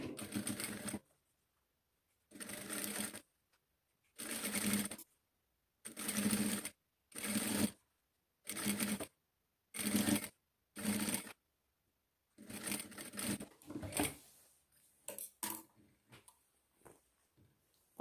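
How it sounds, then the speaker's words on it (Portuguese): A sewing machine with a presser foot stitches fabric binding onto lace in about ten separate bursts of rapid whirring, each a second or so long with short pauses between, ending in a looser run of shorter stitches. "agora eu costuro, faço a costurinha com um pezinho de máquina"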